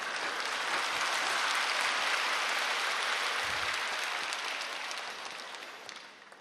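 Congregation applauding in a church service, a dense, loud wash of clapping that holds steady before tapering off over the last couple of seconds.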